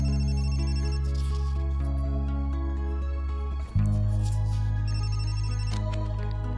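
A phone ringtone plays steadily, a looping electronic melody that cuts briefly in the middle before resuming, with no voices.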